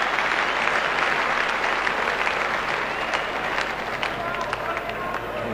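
Crowd at a 1982 Pakistan versus West Indies cricket match applauding a square drive, a steady broad wash of clapping and cheering that holds at even loudness throughout, with commentary voices over it.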